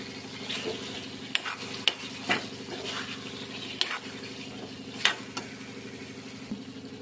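Ari fish goes into a hot pan and cooks with a steady sizzle and frying crackle, punctuated by several sharp stirring clinks and scrapes of a utensil against the pan.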